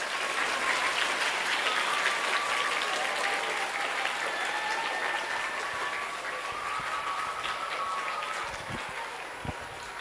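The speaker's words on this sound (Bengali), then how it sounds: "থ্যাঙ্কস, জোরে হাততালি" A school audience at Ramakrishna Mission Sarada Vidyapith claps after a short student play. Loud, sustained applause from many hands fills the whole stretch, tapering slightly near the end.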